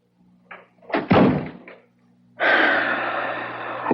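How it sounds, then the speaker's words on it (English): A door shutting in an old radio mystery drama heard through a vintage radio, a brief rustle then a solid thud-slam, followed after a pause by a sustained breathy rush of sound, close and moderately loud. "shut the door."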